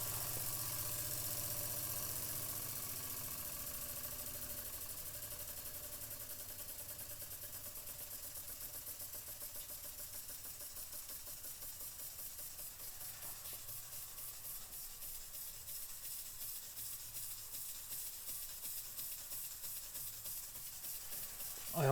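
An Empire B-43 toy steam engine runs for a long stretch with its gauge and running accessories, its steam leaks now fixed. It keeps up a continuous hiss of escaping steam over a soft, steady chugging.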